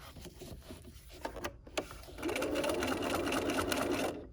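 A sewing machine stitches a dog leash: a few short clicks and taps as the fabric is pivoted, then a steady, fairly close stitching whir for about two seconds.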